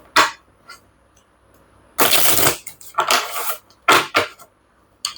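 Fortune-telling cards are shuffled in several quick riffling bursts, each a crisp close flutter of a second or less, separated by near-silent gaps.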